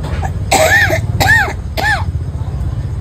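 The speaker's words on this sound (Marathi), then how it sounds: "आईचा खोकला पण चालू आहे" An older woman coughs three times in a row, close and loud, each harsh burst separated by a short pause, with no talking around them.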